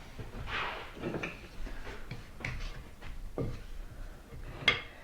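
Dry cake ingredients for a triple ginger cake, mixed in a bowl, make soft scraping and light clinking strokes, close and fairly quiet, repeating in an uneven rhythm with a sharper tap near the end.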